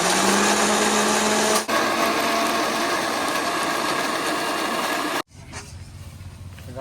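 An electric kitchen mixer grinds ginger, dried chilli and cumin, whirring with a loud, steady high whine that dips briefly once, then cuts off sharply, leaving quiet room noise.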